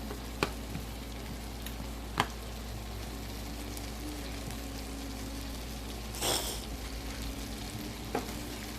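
Purple pod green beans frying in a pan, a steady close sizzle with a few sharp clicks as they are stirred and flipped back and forth, no talking.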